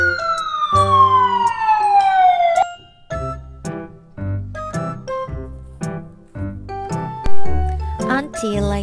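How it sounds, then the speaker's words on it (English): A fire truck siren sounds as a long falling wail, then breaks into short repeating electronic tones, fairly loud and close. "I get excited whenever I hear fire truck sirens."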